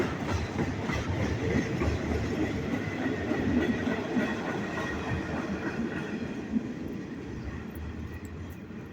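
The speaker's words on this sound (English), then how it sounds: "Oh, here comes a train." A work train rumbles along the Metro North line beneath an overpass in the South Bronx, New York City, a loud, continuous low roar with faint rhythmic rail clatter that slowly eases off, heard nearby with no talking.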